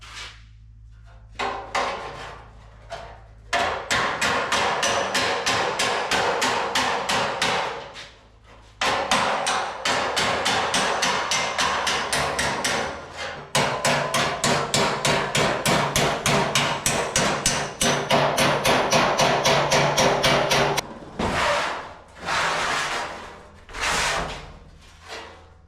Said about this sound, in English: now I'm going to start straightening these flanges out